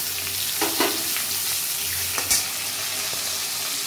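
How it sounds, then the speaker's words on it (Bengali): Hilsa fish heads fry with chopped onion in hot oil, a steady close sizzle with a few brief clinks and stirring scrapes, no talk. "এইবার আমি মাছের মাথাগুলো দিয়ে দিচ্ছি দেখো ভাজার জন্য"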